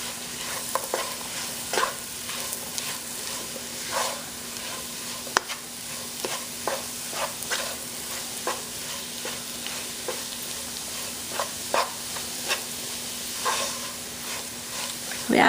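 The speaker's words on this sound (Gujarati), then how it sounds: "તો આ વસ્તુ લગભગ આપણે 15 મિનિટ તો ફોર શ્યોર આપણે હલાવશું" A flour, butter and ghee mixture for monthar is stirred in a pan, giving a soft continuous frying hiss with repeated scraping strokes of the spoon at an irregular, unhurried pace, with no talk.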